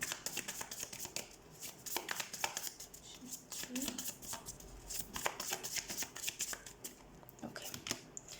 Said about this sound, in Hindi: हम टेरो कार्ड से देख लेते हैं।